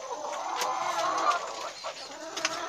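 Chickens in a small backyard poultry setup of about fifty birds cluck and murmur nearby with a few sharper calls, a steady flock chatter with no talk over it.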